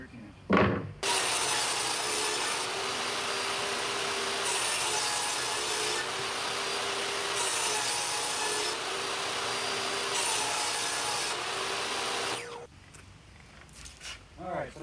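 A strip of wood is cut for a craft booth floor build, a steady rasping saw noise running continuously for about twelve seconds with slight surges, then stopping abruptly into near silence.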